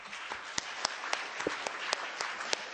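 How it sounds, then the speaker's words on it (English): Scattered audience applause at a Save Our Planet Malaysia panel discussion, a thin wash of hand claps with a few sharper individual claps standing out, fairly faint. "I would like to start this session with a big round of applause for yourself."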